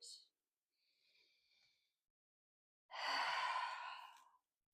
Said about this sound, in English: Take a deep breath. Let it out.